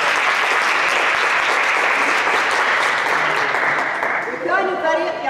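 A room full of people at a youth workshop competition applauds the winning team, loud dense clapping held steady for several seconds before tapering, with a voice starting to speak at the end.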